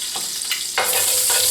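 Beef short ribs brown in hot oil in a pan, giving a steady close sizzle and crackle with brief bursts as the meat is stirred or shifted.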